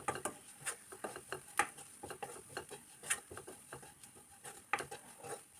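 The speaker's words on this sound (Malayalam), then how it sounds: "ഇനി ഇതിൻ്റെ എല്ലാം പച്ച ടേസ്റ്റ് മാറുന്നിടം വരെ ഒന്ന് ഇളക്കി കൊടുക്കാം." Spice powders, including pepper powder, are stirred in a pan with quiet, quick scraping and light tapping strokes in a steady, close rhythm.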